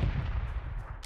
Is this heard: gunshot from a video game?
yes